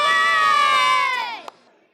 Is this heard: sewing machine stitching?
no